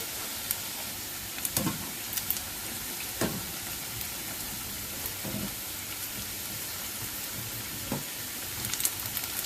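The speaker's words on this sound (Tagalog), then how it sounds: "So, tuloy lang ang pagprito hanggang sa maubos ang inyong mixture." Small portions of a snack mixture fry in hot oil with a steady sizzle, broken by occasional louder crackles and pops as pieces are added or stirred.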